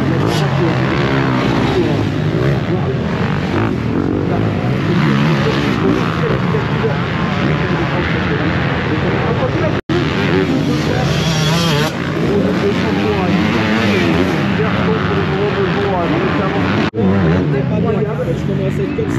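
250cc motocross bikes race past on a rough track at a French national championship round, with engines revving loud and near in continuous, rising and falling snarls, broken by a couple of brief cuts.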